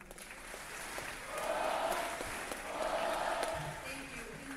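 An audience at a school Veterans Day assembly applauds family members, a soft, distant wash of clapping that swells twice and fades, with no talk over it.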